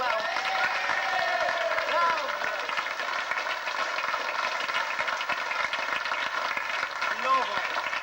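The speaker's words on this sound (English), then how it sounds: "let's ourselves give them all a round of applause to all else" Church pantomime audience at Sinfin Moor applauds in a steady, dense wash of clapping that runs throughout, with voices faintly audible beneath it.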